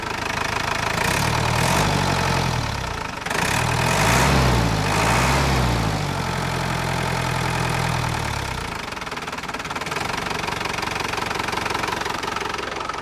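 A Mercedes-Benz OM 314 diesel engine idles close up with a steady, knocking rumble, its pitch swelling and dipping slightly as the revs shift, then settling to a quieter, even idle.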